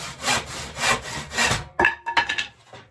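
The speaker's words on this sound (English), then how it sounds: "I'm letting a relatively sharp saw blade do the work for me." Steady back-and-forth strokes of a hand saw biting through wood, rhythmic and close, ending in a few shorter, choppier strokes as the cut finishes.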